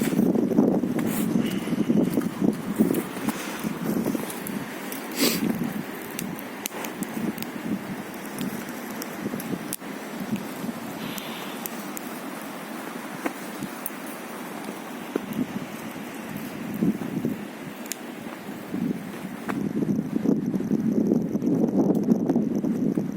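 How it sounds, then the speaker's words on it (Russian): Strong wind blows steadily across a winter camp, a broad rushing roar with surging gusts that swell louder at the start and end, heard alone without voices. "Ну да, ветер не утихает вообще."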